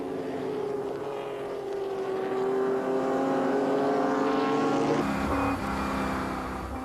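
Race cars from a 1995 endurance event lap the circuit, engines droning steadily with sustained harmonic whine that shifts pitch midway as the sound changes character, loud and continuous without speech.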